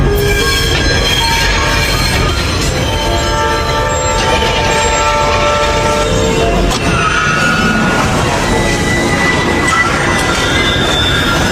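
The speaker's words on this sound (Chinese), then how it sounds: "随着火车的鸣笛声越来越近" A train approaching along railway tracks at a crossing, with a car stopped on the rails: a loud, continuous rumble of wheels with sustained horn tones ringing over it throughout.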